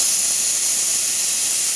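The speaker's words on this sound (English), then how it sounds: "Nice strong steam, and you can see the steam valve's working well now." Steady, strong hiss of a Giotto espresso machine's steam wand after a full tune-up, continuous and loud from start to finish with no pauses.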